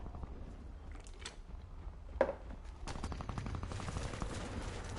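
Rapid gunfire from the shooter game Warface, with a sharp single shot near the middle followed by a sustained burst of automatic fire, loud over a constant game backdrop.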